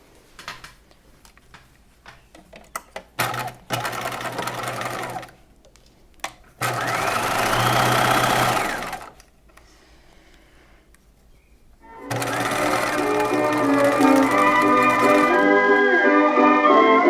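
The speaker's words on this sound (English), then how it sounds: "now I'm going to stitch these side seams" Sewing machine stitching the side seams of a bodice in separate whirring runs, with quiet gaps and small handling clicks between them, the final run long and steady.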